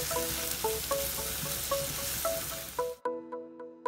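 Onions sizzle steadily in a pan while being browned for a wild-flower vegetable curry, with regular clinks of a utensil against the pan; the sizzle cuts off near the end, leaving a few clear clinks.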